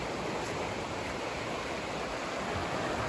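A restored Atlantic salmon stream rushes at bankfull flow in early April, a loud continuous roar of turbulent water with no pause.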